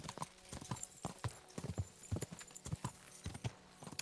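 Steady hooves clip-clop in an even walking rhythm, crisp and close, with faint ambient tones underneath, in the video game Kingdom Come: Deliverance II.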